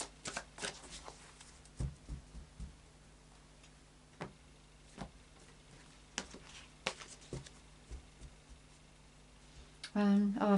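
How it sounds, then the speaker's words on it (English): Tarot cards being shuffled in repeated soft riffles and taps, close and quiet, ending with a brief voice at the very end. "So a final shuffle of the psychic tarot."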